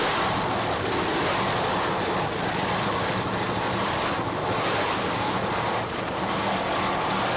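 A 45-foot Apache offshore race hull powerboat pounds through rough water, its engine roar buried in a steady, dense wash of wind and spray with no voices.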